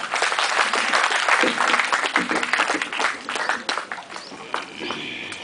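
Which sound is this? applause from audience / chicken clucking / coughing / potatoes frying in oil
applause from audience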